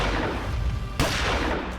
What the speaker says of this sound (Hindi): वही खड़ा रहे, नहीं तो मैं फायर कर दूंगा।